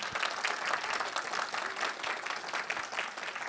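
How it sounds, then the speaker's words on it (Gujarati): A live comedy show audience claps steadily, a dense, fairly even round of applause for a few seconds with no clear speech over it. "આ તમારી તાળી અમારા માટે છે ને"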